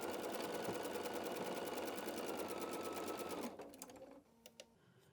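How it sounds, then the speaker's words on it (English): A sewing machine stitches a seam on a fabric door banner in a steady, fast, close run for about three and a half seconds, then slows and stops, leaving a few faint clicks. "Okay, let's go sew that."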